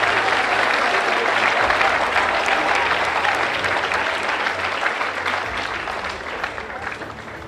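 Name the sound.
audience applause for athletes at an awards ceremony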